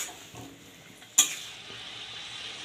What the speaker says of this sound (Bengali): আলুটা দিয়েও বেশ কিছুক্ষণ আমি কষিয়ে নেব